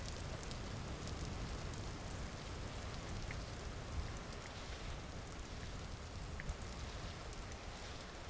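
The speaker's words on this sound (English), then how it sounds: "Get out of this rain." Rain falling in a video game, a steady, even hiss of dense drops with occasional faint pattering ticks, soft and continuous without break.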